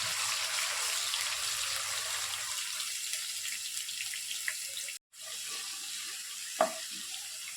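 Ginger garlic paste and cumin fry in hot oil for a paneer masala curry, giving a steady, close, loud sizzling hiss that drops out abruptly for a moment, then returns more softly with a faint clink.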